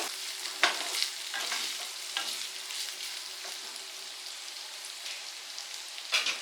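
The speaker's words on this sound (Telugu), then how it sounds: "చూడండి, ఈ విధంగా ఆనియన్స్, బీఫ్ కొంచెం ఫ్రై అవ్వాలండి." Onions and beef sizzle and crackle as they fry together for beef chukka, a steady close hiss with occasional louder stirring scrapes and pops, no talking.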